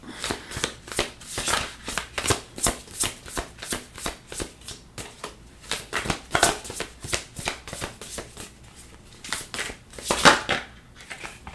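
Tarot cards are shuffled up close in a steady run of soft riffling bursts, each a brief papery flutter repeating at an even pace, with one slightly louder burst near the end.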